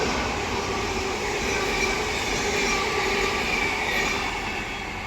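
Gonda Humsafar Express train overtaking the Amrit Bharat Express, heard as a steady loud roar of passing railcars and wheels on track, with faint wheel squeal and rhythmic clatter throughout.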